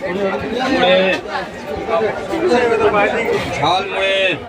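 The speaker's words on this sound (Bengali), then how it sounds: "অনেক ভিড়" A packed platform at Bardhaman Junction gives a constant wash of crowd chatter, with a close voice speaking over the steady babble of many people.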